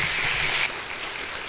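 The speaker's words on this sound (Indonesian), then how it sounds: "Beri aplaus untuk kedua narasumber." Audience applause for two guest speakers at a radio dialogue event on National Education Day rises briefly, then fades to a softer patter.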